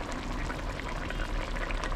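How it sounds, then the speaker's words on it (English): Catfish curry simmers in a pot with a dense, steady bubbling and popping heard up close, with no voices over it. "So the curry bubbling away there"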